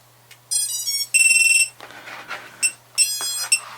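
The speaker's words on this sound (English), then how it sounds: "you can hear it beeping there, just do its initialization" A loud Hellgate FPV drone buzzer chirps on battery startup in a rapid series of tonal beeps and trills, close up, with short gaps between bursts.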